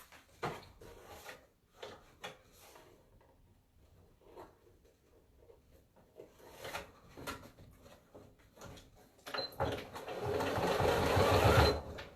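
A sewing machine stitches fabric for a bow headband in short bursts at first, then a longer, louder continuous run of rapid whirring near the end, with small handling knocks between runs.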